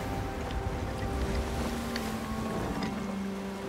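Sailing ship in the game Sea of Thieves heading toward a dock, with a steady creaking, rushing water-and-wind wash and low tonal hum, continuous and moderately quiet.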